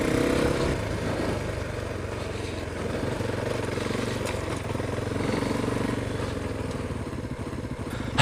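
A KTM 390 Adventure motorcycle riding off road with its suspension clunking, a continuous engine drone under rattling knocks and wind, moderately loud and steady throughout.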